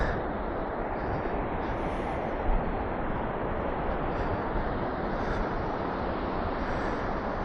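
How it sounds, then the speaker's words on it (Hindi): A steady, loud rush of the fast-flowing Indus River among high mountains near Skardu, Pakistan, roars without pause, dense and broad, with no voices. "कितना पानी का शोर है"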